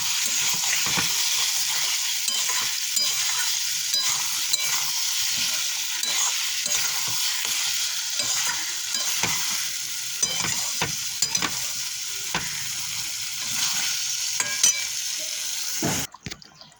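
Masala sautéing in a pan, with steady sizzling and scraping, clattering stir strokes that carry on throughout before stopping abruptly near the end; close and fairly loud, with no voices.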